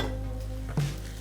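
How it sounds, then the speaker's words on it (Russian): Onions fry under a lid for a biryani, giving a soft continuous sizzle over a low hum, with a brief clatter of stirring or a lid shifting midway. "Удивительно, но лук под крышкой жарится очень правильно."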